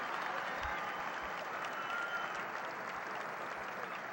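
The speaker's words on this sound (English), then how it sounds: "you can hear the applause for the 2 wrestlers" Steady applause from a crowd at a 1987 high school wrestling finals match, filling the whole stretch at an even, moderately loud level with no pauses.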